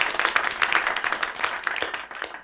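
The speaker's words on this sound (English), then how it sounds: "Huge round of applause for that." An audience gives a round of applause at the end of a panel discussion on AI, the clapping fairly close and steady and filling the short clip before trailing off.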